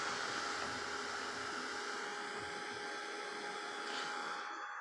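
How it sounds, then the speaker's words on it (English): A small heat gun dries watercolor paint on paper, a steady, close blowing hiss that runs throughout and cuts off at the end. "And I use my little heat gun just to speed things up."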